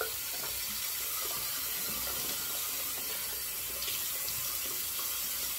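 Water runs steadily from a tap to rinse something, a constant broad hiss with no talk.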